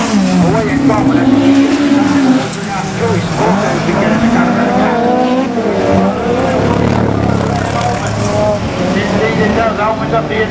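Autograss race car at the Cambridge track sliding sideways into a corner during a Class 3 final, loud engine roar and tyre scrub throughout, with a commentator talking over it.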